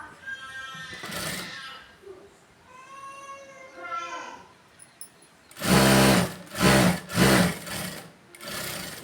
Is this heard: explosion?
no